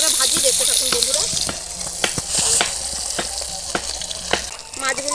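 Puti fish sizzle and spit steadily in hot oil in a pan, with occasional light clinks of stirring and turning over the continuous close frying hiss.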